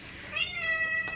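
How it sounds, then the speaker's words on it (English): A house cat gives a single short, faint meow indoors against a quiet room background. "that is my cat saying, hey, you want to come up or something?"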